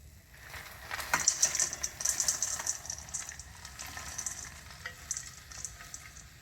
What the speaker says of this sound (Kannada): ಈಗ ಹುರಿದಿರೋ ಎಲ್ಲ ಡ್ರೈ ಫ್ರೂಟ್ಸ್ನ ನಾನು ಖರ್ಜೂರದೊಂದಿಗೆ ಮಿಕ್ಸ್ ಮಾಡ್ತೀನಿ